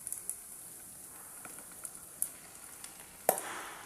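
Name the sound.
lung pieces sizzling in a pan for bopis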